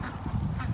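Ducks kept together in a mixed flock with chickens give off close, repeated honking and quacking calls in a short burst, with no talk.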